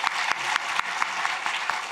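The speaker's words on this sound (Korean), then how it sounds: "뜨거운 박수로 한번 격려해 주시면 좋겠습니다." A church congregation applauds during a Sunday service, giving a short, steady burst of many hands clapping together with sharp individual claps standing out.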